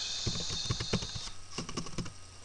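Quick bursts of typing on a computer keyboard, close and fairly quiet, with irregular clusters of key clicks separated by brief pauses.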